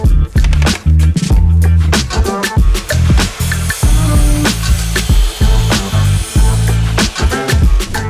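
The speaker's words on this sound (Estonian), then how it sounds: "lõikan need eerungi ja järkamissaega õigele pikkusele" Miter saw cutting planed wooden beams to length while building a home-cinema armchair: loud, repeated blade whines and cuts follow one another in a steady working rhythm, close by, with no talking.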